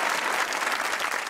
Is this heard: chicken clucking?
no